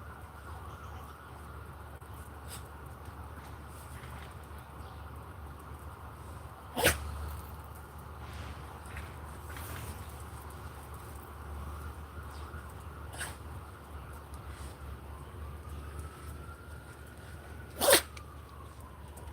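Two sharp, brief sneezes stand out from a quiet, low background hum, one about a third of the way in and the other near the end.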